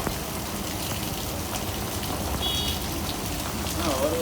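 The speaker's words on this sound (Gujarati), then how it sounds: "ત્યાં વરસાદ ચાલુ થઈ ગયો છે." Rain falling behind a shop, a steady close patter of drops on surfaces with a continuous wash of water noise, a couple of faint tonal chirps in the background and no talk.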